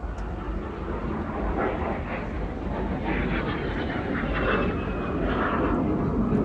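A de Havilland Vampire jet with 3,500 pounds of thrust, flown by the Norwegian Historic Flight at the 2016 Scottish International Airshow, roars overhead in a steady, sustained rush from some distance, with no one talking.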